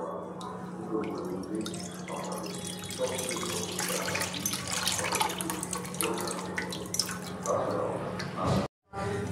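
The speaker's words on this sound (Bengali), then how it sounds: "এবার আমি দুধটা দেব, দুধটা কাটবো, দুধটা আমি ঢেলে দেবো।" Milk is poured from packets into a pan on a gas stove, giving a continuous splashing liquid stream that cuts off near the end, with a faint voice in the background.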